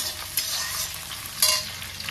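Potatoes and onions with nigella seeds frying together in a pan, a loud, close hiss of sizzling oil with a couple of sharper spatula scrapes on top and no speech.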